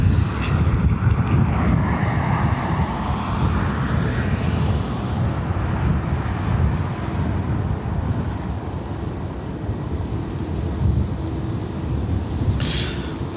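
A British Airways Airbus A320neo, about eight years old, rumbles at Dublin Airport with a broad low engine roar mixed with wind buffeting on the microphone, steady and moderately distant throughout.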